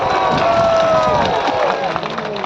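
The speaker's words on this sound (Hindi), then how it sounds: "जोर से ताली बजाइए सभी लोग" A large outdoor political rally crowd in Imphal cheers and applauds loudly and continuously, a dense wall of clapping and shouting with no pauses.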